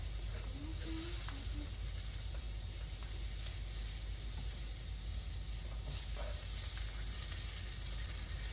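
Vegetables sizzle on a grill pan in a steady, even hiss that runs throughout, with a few faint scrapes and a brief voice in the background.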